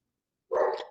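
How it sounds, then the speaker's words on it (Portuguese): A neighbour's dog gives a single short, sharp bark, fairly close and loud, after a brief silence. "Cachorro do vizinho participando da aula."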